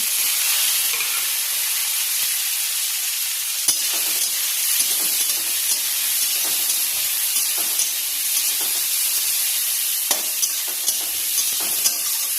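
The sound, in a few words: frying tomato, onion and chilli in pan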